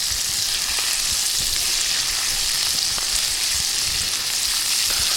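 Bacon frying in a pot for potato soup, giving a steady, dense sizzle that stays close and constant throughout, with no talking.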